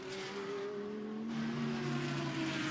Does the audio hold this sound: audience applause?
no